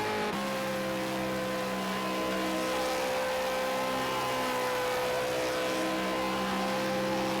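V8 Supercar race cars in a racing video game cross the line at Ruapuna Park, a steady, continuous engine drone with layered harmonic whine that holds at constant loudness throughout.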